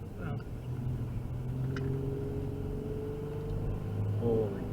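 A fast rally car on a night stage accelerates past, its engine roaring with a steady sustained drone, loud and close, with brief voices underneath.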